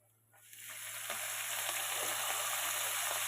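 Chopped amaranth leaves drop into a hot pan and set off a sizzle that quickly swells into a loud, continuous hiss and holds steady to the end.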